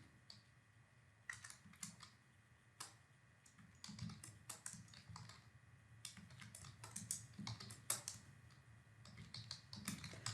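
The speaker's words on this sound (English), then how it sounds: "I'll just type this in" Close, quiet typing of search words on a computer keyboard, with irregular runs of crisp key clicks across the whole stretch and no voice.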